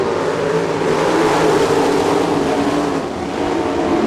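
Sprint cars roar around the track during a heat race at the All Star Circuit of Champions Spring Nationals at Attica, Ohio, a loud sustained engine drone with shifting pitch and no talk.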